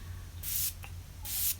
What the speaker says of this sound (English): the last step is setting spray